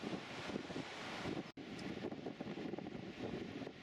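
Strong wind roars at the Maumusson coast near Saint-Trojan-les-Bains, buffeting the microphone in a loud, steady rumble that cuts out for a split second before returning just as hard.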